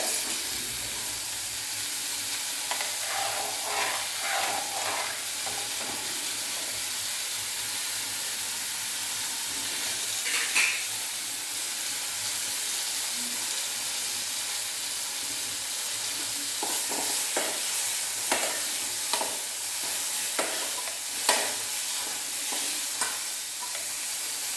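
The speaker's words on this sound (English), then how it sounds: "Once it splutters, we will switch off the flame. Let it splutter." Hot oil for lemon pickle crackles and spatters in a pan with a steady sizzling hiss, sharp pops scattered irregularly throughout, close up and alone.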